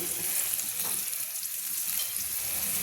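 Sliced onion and green chilli with mustard seeds sautéing in a pan for ginger curry, giving a dense, continuous close sizzle with a faint stirring scrape now and then.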